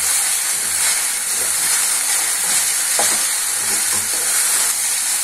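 Okra (ladies' finger) sizzles and fries in a pan while a utensil stirs it, giving a steady loud hiss with periodic scraping clicks and no talking.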